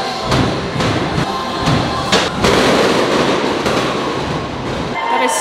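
A Disney Christmas party fireworks finale sounds near and very loud in Fantasyland: rapid, overlapping booms and crackling bursts roll on without pause, with crowd noise and voices underneath.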